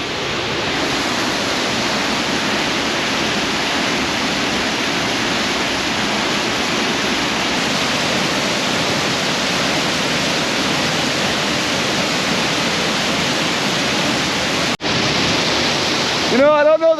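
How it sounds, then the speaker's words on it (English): A waterfall along the Rogue River roars steadily up close, a dense rushing hiss that holds unchanged, with a brief handling knock near the end. "This is just amazing waterfall."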